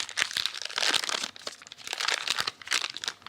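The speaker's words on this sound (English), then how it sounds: "So with this bag, we're just going to fold it back over." A plastic piping bag filled with butter biscuit dough is folded back over, giving bursts of loud, close crinkling and crunching with short pauses between them.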